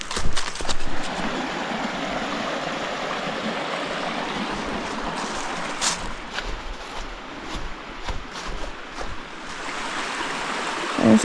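Stream water rushing over a trail water crossing in a mountain wilderness, a steady broadband wash that stays close and constant throughout, with a few brief knocks and scuffs on top.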